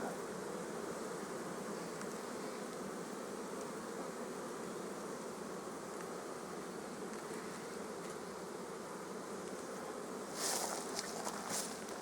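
Steady, dense buzzing of many honey bees swarming close around an open hive, continuous throughout, with a few brief rustling clicks near the end.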